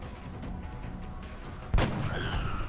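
A single sharp gunshot in XCOM Enemy Within, loud and sudden near the end, followed by a brief ringing tail over a low game ambience.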